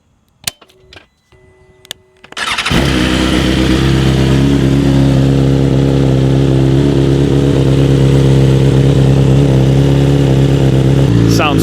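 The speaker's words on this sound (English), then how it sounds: "let's get it started up." A BMW S1000RR sport bike fitted with Akrapovic headers cranks with a few sharp clicks, then fires and settles into a loud, steady idle with blips of revving, close up and alone.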